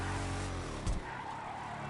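Car in GTA 5 Online sliding and skidding, a continuous engine drone with tire squeal and one short sharp burst midway, in game audio.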